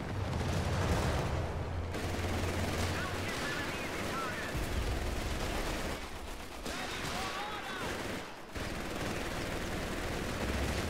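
Battle in a real-time strategy video game with British troops, tanks and mortars: a dense, continuous wash of distant gunfire, artillery and explosions, with a voice speaking over the din.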